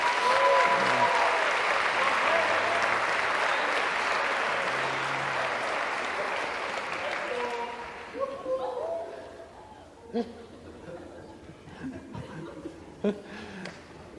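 A gathered audience claps loudly for about eight seconds, with chuckles and laughter mixed in, then the applause fades to scattered claps while people talk and laugh nearby.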